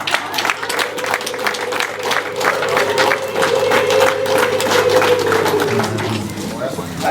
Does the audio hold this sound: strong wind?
no